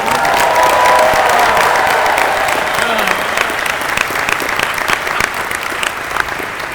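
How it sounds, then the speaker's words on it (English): A large convention audience at a Marvel anniversary panel applauds loudly and steadily, with a dense wash of clapping and some cheering that slowly eases off. "give it a big round of applause for Tom."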